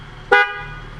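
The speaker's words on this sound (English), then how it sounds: "sound the horn" A single short toot of a car horn sounded during a pre-driving-test vehicle check, loud and close with a sharp onset and brief ringing tail.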